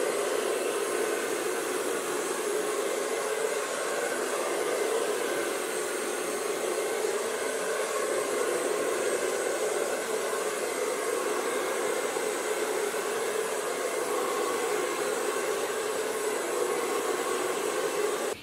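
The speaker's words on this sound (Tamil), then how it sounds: "இந்த மாதிரி ப்ரஷ் நாசில் வச்சு ஹீட்டை வந்து பெனிட்ரேட் பண்ணி நீட்டாக வந்து கோம் பண்ணியிருக்கேன்" A hair dryer fitted with a brush nozzle blows hot air through hair in a loud, continuous, even rushing whoosh that stays steady close by throughout, with no talking.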